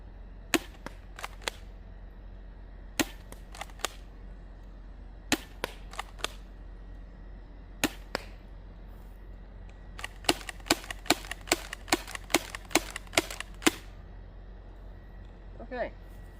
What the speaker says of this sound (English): I'm going to fire a few regular and then I'm going to slam fire the rest.